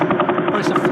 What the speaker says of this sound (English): This is called the Vela pulsar. This is just repeating now.